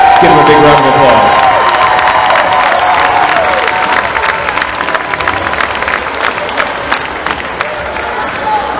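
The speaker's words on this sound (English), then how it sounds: "Let's give him a big round of applause." A crowd in a high school varsity basketball gym applauds and cheers a player's 1,000th career point, loud clapping and shouting that gradually thins out, with an announcer's amplified voice trailing off at the start.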